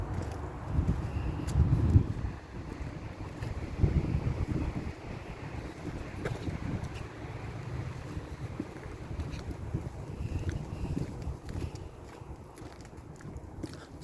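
Wind gusts across a hiking trail on the Ute trail, giving a low, buffeting rumble against the microphone that swells and fades in uneven waves, strongest near the start, with no voices.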